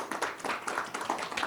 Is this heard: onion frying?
no